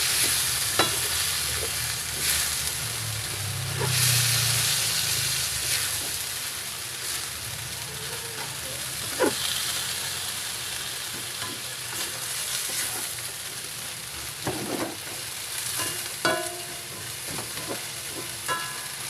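Ampalaya con carne sizzling and frying in a pan while it is stirred, a steady crackling sizzle with occasional scrapes and clinks of the utensil against the pan.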